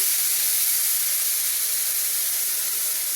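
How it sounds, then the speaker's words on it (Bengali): Marinated meat for a Bengali kosha mangsho sizzles loudly in hot oil, a constant bright hiss that holds steady from start to finish with no talking. "এবারে ম্যারিনেট করা মাংসটা আমি এর মধ্যে দিয়ে দেবো।"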